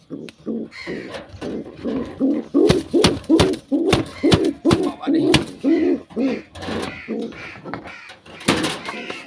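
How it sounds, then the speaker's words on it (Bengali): A Bangla pigeon coos in a steady rhythmic series of low, throaty pulses close by, with sharp knocks and clatter scattered between the calls. "আর এই জায়গায় একটা বাংলা কবুতর আছে"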